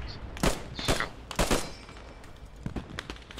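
Battlefield gunfire in Post Scriptum, a World War II shooter: several sharp, fairly close shots in quick uneven succession, followed by fainter, more distant pops.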